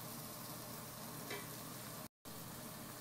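Onion, pepper, tomato, parsley, coriander and dill sauté in a pan, giving a dense, even, quiet sizzle that continues steadily apart from a brief dropout.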